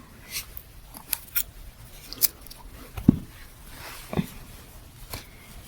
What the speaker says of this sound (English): Then you would cut the extra yarn